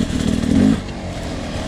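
A 2020 Beta 300RR Race Edition dirt bike engine revs up loudly in a rising burst, then settles into a steady buzzing idle, heard up close with no talking.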